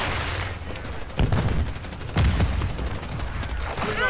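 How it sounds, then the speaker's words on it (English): Gunfire in a Call of Duty MW3 multiplayer match, with a dense crackle of shots and two heavier bursts standing out, steady and fairly loud throughout. "Taking effective fire."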